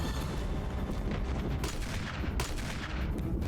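Gunfire from Barry in Resident Evil 1 comes as a dense run of booming shots over a continuous rumble of game sound, loud and steady with no pause or talk.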